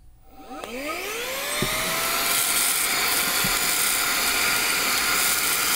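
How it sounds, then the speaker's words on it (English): Brigii M1 handheld vacuum spins up with a rising whine and holds a steady, loud suction roar while picking up spilled rice, with a couple of faint ticks from grains being drawn in. "Powerful suction. And there it is. Every last grain of rice scooped up just like that."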